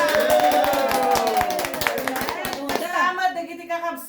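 A church congregation at an Ilocano fellowship gathering in London claps in a steady, rhythmic beat while voices sing along, the clapping thinning out near the end.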